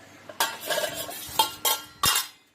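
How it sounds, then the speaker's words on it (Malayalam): A spoon stirs milk in a metal pot while making mozzarella, giving a few distinct clinking, scraping strokes against the pot in quick bursts, close and fairly quiet, with no talking. "നല്ലോണം ഒന്ന് മിക്സ് ചെയ്ത് കൊടുക്കുക"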